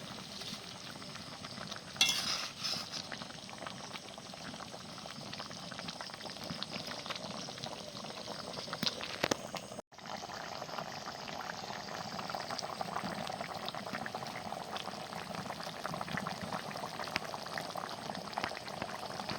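Fish curry with green mango bubbling steadily in a pot, a continuous close boil with a brief clatter near the start and a short break midway.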